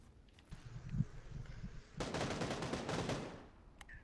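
Video game gunfire in a squad battle match: a rapid burst of automatic shots lasting about a second and a half, preceded by scattered single shots and faint movement, moderately loud with no talk.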